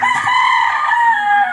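A backyard gamefowl rooster, a Boston Roundhead crossed with a White Kelso, crows once in a loud, sustained, close call that fills the whole moment with no voices over it.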